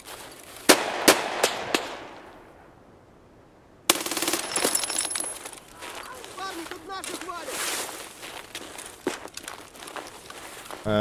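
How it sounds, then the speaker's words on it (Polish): Long rapid bursts of automatic gunfire in Escape from Tarkov crackle in sharp rattling strings, separated by short pauses, with quieter pops and game effects in between. "Ale te strzały mnie interesują, wiecie czemu? Bo takie długie serie."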